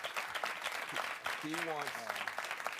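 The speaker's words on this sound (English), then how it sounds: "Give this brother a round of applause." A town hall audience applauds a guest, a respected sports figure whose store recently burned down; steady, broad clapping fills the room while someone speaks over it.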